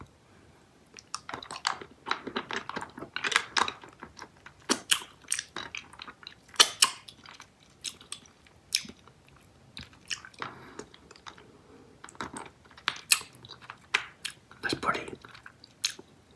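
Charms Valentine hard candy lollipops being bitten and crunched up close, a long series of sharp, irregular cracking crunches and chewing clicks, quiet between bites, with no talk.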